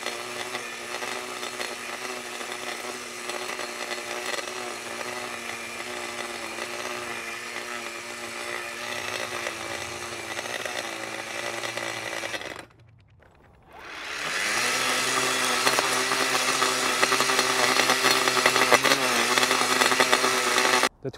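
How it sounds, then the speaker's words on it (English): An Echo DPAS-2100SB 56V battery edger spinning a golden edger blade cuts a half-inch groove in the ground. A loud, steady high-pitched whine drops out briefly, then spins back up and runs on. "The 2100 did a great job spinning this golden edge edger blade. Did a great job cutting groove in the ground."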